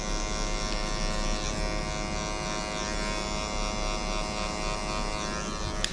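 Electric hair clippers buzz steadily while cutting hair during a haircut, a close, continuous motor drone with a constant pitch and no speech over it.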